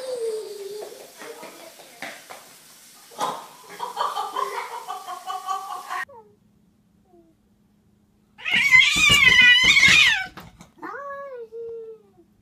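A cat yowls and meows in long drawn-out wails, with a loud caterwauling burst near the end after a quiet pause, and a person's voice speaking in between.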